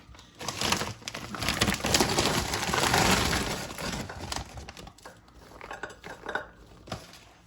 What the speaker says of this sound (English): I'm gonna add a large family size bag of frozen meatballs.